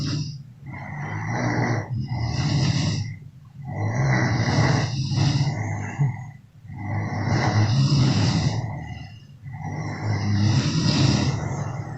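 Loud, steady snoring from people asleep at night on a road trip from Dibrugarh toward Mechuka, each rasping breath repeating about every two seconds, close and continuous with no talk.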